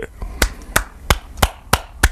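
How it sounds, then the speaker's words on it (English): One person claps alone, six sharp, evenly spaced claps in a steady rhythm, close and distinct against a quiet background. "I know I'm clapping uh, for myself"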